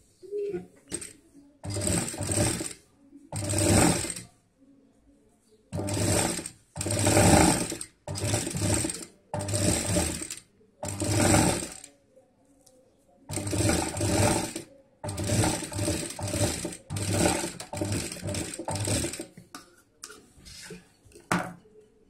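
A sewing machine stitches a zip onto a fabric handbag in repeated bursts of rapid mechanical whirring, each run a second or two long, separated by short pauses as the fabric is repositioned.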